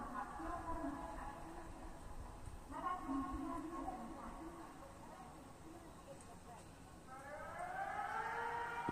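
Civil defense tsunami warning siren wailing in Japan, rising and falling tones that swell louder toward the end over a steady background rumble.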